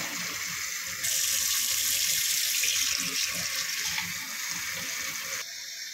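Tap water runs into a sink while bean sprouts are washed, a steady splashing gush that grows louder after a second and eases near the end.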